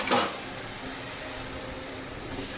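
Chicken frying in a pan with ginger garlic paste for a biryani, giving a soft, continuous sizzle, with a brief stirring clatter at the very start.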